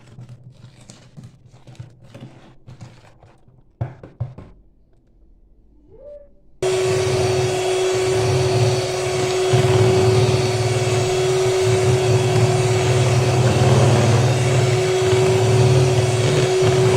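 Eggs are mixed with sugar and margarine for vanilla cupcake batter: after faint rustling and crinkling, a loud steady motor whir with a humming tone starts and runs on without a break.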